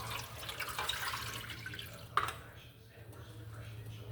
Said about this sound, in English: we're going to pour this directly in the pan